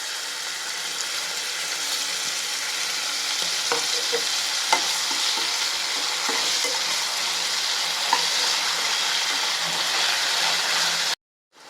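Dried prawns and vathal fry in hot oil, a steady bright sizzle with scattered small pops and occasional stirring scrapes, close and continuous until a sudden cutoff near the end.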